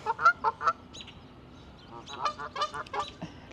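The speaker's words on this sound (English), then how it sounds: "these ducks over here interrupting my vlogging." Ducks honk and call nearby outdoors in the Bronx, New York City, a quick burst of loud nasal calls at the start and another run of calls later, over steady outdoor background noise.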